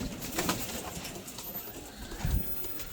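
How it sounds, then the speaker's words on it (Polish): Soft pigeon cooing close by, a few low throaty coos against a faint background hiss, with a fuller burst of cooing near the end. "tu jest gołąbek od Denisa Czulicza"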